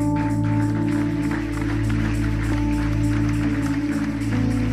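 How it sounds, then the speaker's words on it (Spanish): A church congregation claps for God during a pastor's service, dense continuous applause with a steady patter over sustained organ-like tones, close and lively from start to finish. "Fuerte el aplauso a Dios."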